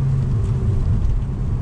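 A 2019 Mazda 3 AWD hatchback engine pulls steadily in third gear under load, a loud, continuous low rumble close by with no voices.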